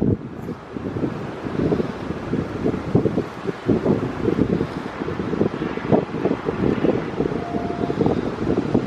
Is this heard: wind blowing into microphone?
yes